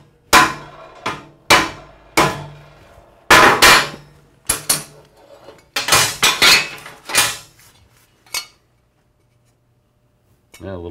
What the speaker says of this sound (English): Give it a little tap because these tacks are easy to stretch.